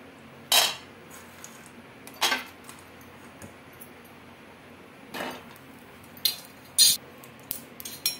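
Peanuts dry-roasting in a kadai for chutney, stirred with a few sharp metallic scrapes and clinks spaced apart over a quiet background.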